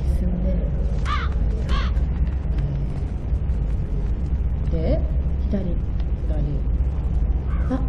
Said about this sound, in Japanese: はい、 カラスだった、よかった。